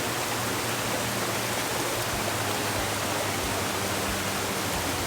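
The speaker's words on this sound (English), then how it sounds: "So there's more than one waterfall, it turns out, and we're hiking upstream to the biggest one." Water from a waterfall and stream in Laos rushes in a steady, dense broadband roar, close and continuous with no other sounds standing out.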